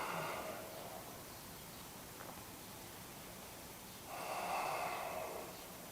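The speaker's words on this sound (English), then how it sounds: "Big inhale, slow exhale." A deep breath in and a long slow breath out during a yoga flow, heard as soft airy rushes close by, alone against a quiet background hiss.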